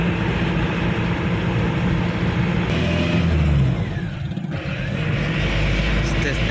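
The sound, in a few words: Tempo Traveller van driving on the road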